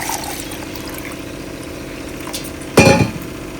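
Water poured into a pot of curry thickened with gram flour, a short splashing gush near the end after a stretch of quiet kitchen background.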